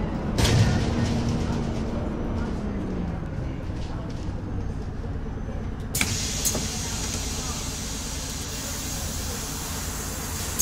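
A MAN NG313 articulated bus drives through a rural district in the OMSI 2 simulator, its engine and road rumble continuous. A sharp click and a rising hiss come near the start, and another burst of hiss arrives midway.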